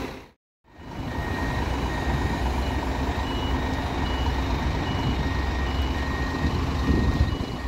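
A Volvo B420R bus with a Cantelli body sounds steady, evenly spaced reversing beeps over a loud idling diesel engine, heard close and continuous at a bus station.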